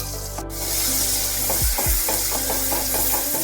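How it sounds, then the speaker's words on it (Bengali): Spice paste sizzles in hot oil with tempering spices over a low gas flame, a steady soft frying hiss broken by repeated scraping strokes of a spoon stirring the pan, close and alone. "মশলাটা দিয়ে তেলের সাথে আর ফোড়নের সাথে ভালোভাবে একটু কষাতে হবে।"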